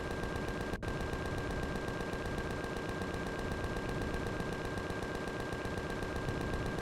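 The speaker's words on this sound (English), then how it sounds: "Yeah, they're starting to shoot holes through the warehouse." Steady sustained automatic gunfire from enemies shooting into a warehouse in Empyrion Galactic Survival, a continuous rapid rattle with an even rhythm throughout, loud and close, with no talk.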